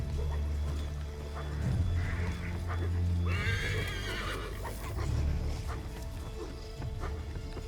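A horse whinnies loudly in the Assassin's Creed 3 video game, a single shrill neigh rising over hoofbeats and low game ambience, with a voice speaking briefly before and after.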